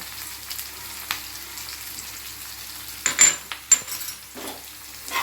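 A spoon stirs a Telugu coconut and chana dal curry with half a spoon of turmeric in a pan over a low sizzle, scraping and clinking against the metal in a few short bursts.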